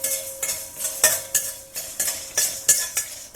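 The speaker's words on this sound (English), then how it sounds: "So one has to roast both the chilies as well as the coriander seeds." Local Masuri chilies and coriander seeds being dry-roasted and stirred in a pan, with a steady rhythm of scraping, rattling strokes about three times a second, close and clear.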